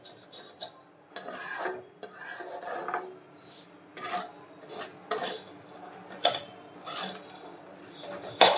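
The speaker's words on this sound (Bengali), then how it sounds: "অফ করে দিয়ে এবার এইটাকে পুরো মিশিয়ে নেবো, পুরো সিমুইয়ের সঙ্গে পুরো মিশিয়ে নেবো আমি।" Fried vermicelli in ghee is stirred in a pan with a metal utensil, giving irregular close scraping and clinking strokes with a faint sizzle beneath.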